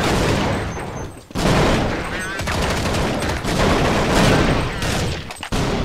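Rapid, loud bursts of automatic shotgun fire from Counter-Strike 1.6 gameplay. The blasts come in dense volleys with brief gaps between them.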